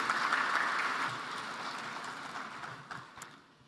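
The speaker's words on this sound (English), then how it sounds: "let's give him another round of applause." Audience applause at an African energy summit, a dense wash of clapping from a large crowd that is loud at first and gradually thins and fades toward the end.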